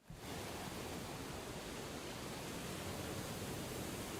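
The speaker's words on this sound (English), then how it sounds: "I heard vicious sounds of crashing waves and roars of an all-crushing storm." Crashing waves and storm roar in Limbus Company game: a dense, steady wall of broadband rushing noise, loud and unbroken throughout, with no voices.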